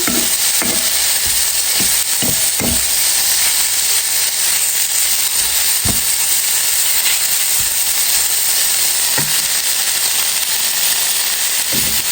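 Rice boiling in a pot on the stove, giving a steady, loud steamy hiss and bubbling throughout, with a few brief knocks near the start and scattered along the way.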